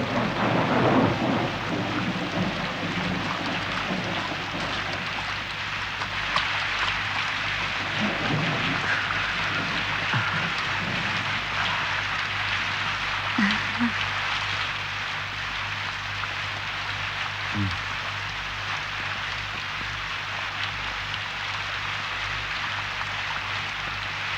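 Heavy rain hisses steadily for the whole stretch in a 1970s Indonesian film scene, with low thunder rumbling under it and a few sharper cracks partway through.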